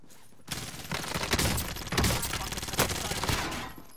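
Rapid bursts of gunfire in an online multiplayer shooter video game, loud and dense fusillade sounds overlapping continuously after a short quiet start.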